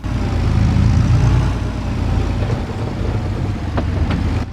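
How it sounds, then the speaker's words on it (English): Tractor in Farming Simulator 22 driving over rough terrain, a steady loud low engine drone with rattling and a couple of sharp clanks toward the end, no talk. "Can you hear all those rattles and those sort of rattling as you go over rough terrain?"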